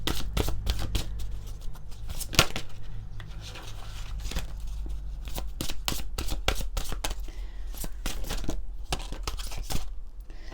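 Oracle cards are shuffled close up in quick, papery riffles and slaps, a rapid irregular run of crisp taps going on without a break over a low background hum.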